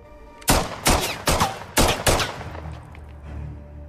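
Five loud, sharp gunshots crack in quick, slightly uneven succession from an action-film scene, each a broadband burst with a short echoing tail, followed by a low lingering rumble and quiet background after the last shot.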